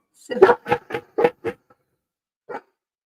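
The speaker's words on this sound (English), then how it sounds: "Stop barking." A dog barks five times in quick succession at close range, then lets out one more bark after a short pause.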